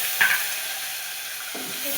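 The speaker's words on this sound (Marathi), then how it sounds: "आता आपल्याला मोहरी घालून घ्यायची याच्यामध्ये, थोडंसं जिरं, लगेच आपल्याला कढीपत्त्याची पानं" Mustard seeds, cumin and curry leaves hitting hot oil for a Marathi-style dal tempering: a steady bright sizzle throughout with two brief louder bursts as ingredients drop in.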